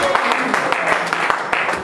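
Church congregation applauding its deacons and elders, a dense, continuous wash of clapping with a few sharper accents, steady and fairly loud throughout.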